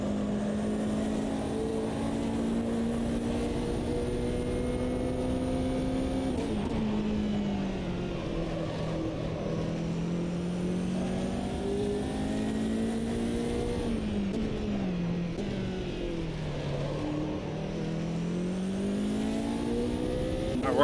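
A Ferrari race car in Automobilista 2 at the COTA circuit drones steadily with its engine note rising and falling through revs and gear changes, loud and continuous, with no talk.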